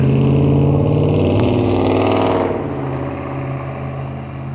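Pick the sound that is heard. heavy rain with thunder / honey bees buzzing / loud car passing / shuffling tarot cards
loud car passing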